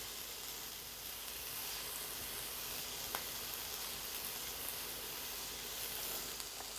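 Salt-water-boiled carrots and mushrooms go into a hot pan for a light diet recipe. A faint, even sizzle and hiss hold steady throughout, with one tiny tap near the middle. No one speaks.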